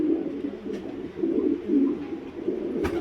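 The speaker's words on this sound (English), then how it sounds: "some of them will come back through and they're cooing around" Racing pigeons coo continuously inside a loft, a close, soft, layered rolling murmur from several birds with a brief knock near the end, no talking.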